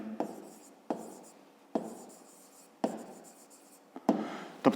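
Pen scratching on paper in short strokes, five or six bursts separated by brief pauses, close and quiet, with no talking.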